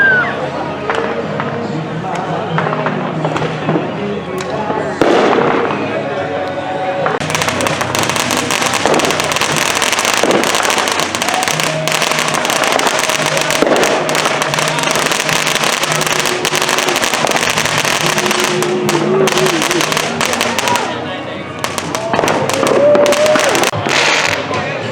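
Fireworks go off in a suburban neighborhood, a dense run of sharp bangs, crackles and fizzing bursts that are loud and close, with people shouting and talking over them.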